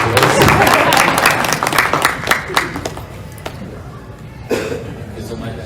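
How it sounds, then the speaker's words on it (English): Audience applause at a business conference session fills the opening seconds, then thins to scattered claps before a speaker begins talking. "Please join me in giving me a big round of applause."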